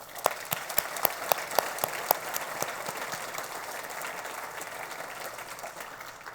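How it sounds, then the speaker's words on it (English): An audience in a room claps for the sponsors of a Strawberry Social event, steady applause with sharp individual claps standing out early and then settling into an even, sustained patter. "Please join me one last time in giving them all a final round of applause."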